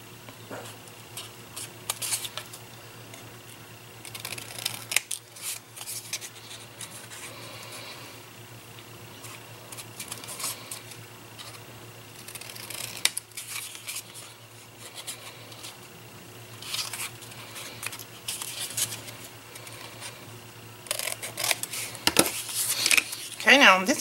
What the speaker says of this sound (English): that tells me where I need to cut to make some good corners